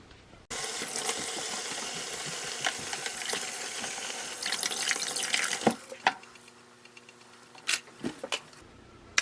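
A kitchen sink tap runs in a steady broadband rush for about five seconds, then cuts off, leaving a few drips, clinks and small handling knocks in a quiet room.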